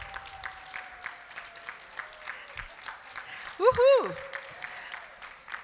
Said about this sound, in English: And we're gonna give our applause to you.